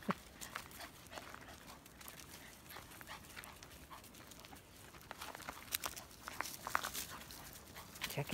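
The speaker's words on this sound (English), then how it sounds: "These are Jade's puppies going on a walk." Small dogs patter and scuffle about, giving occasional faint yips and whimpers against quiet outdoor background noise.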